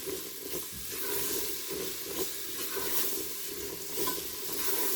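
Chickpeas with Shan chana masala are stirred and fried in a pan, a constant close sizzle with soft, regular scraping of the spoon throughout.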